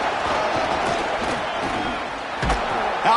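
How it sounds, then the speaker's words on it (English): A packed football stadium crowd at a Houston versus Penn State game roars steadily and loudly with a dense wall of cheering, and a sharp thump near the end. "Listen to this crowd just shaking the girders of this place"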